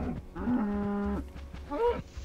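Minecraft cows mooing in a drawn-out, tonal low call, followed by a second shorter rising moo, close and clear with no talking over it.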